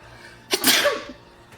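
A single loud, close sneeze bursts out over quiet background noise, short and sharp, with no talking around it.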